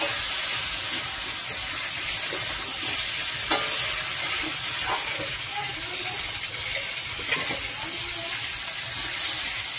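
Spice mixture frying and being stirred in a pan for a thin tilapia fish curry with potato and drumstick stems, a steady broad sizzle with scattered scraping stir clicks throughout, close and fairly loud, with no talk.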